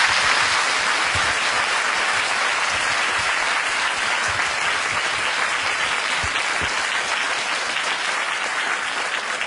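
A university lecture audience applauds at the close of a Q&A session, sustained loud clapping filling the hall evenly for several seconds with no break.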